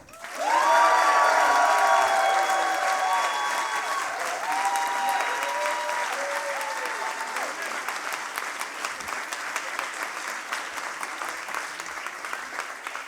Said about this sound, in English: Then please applaud now.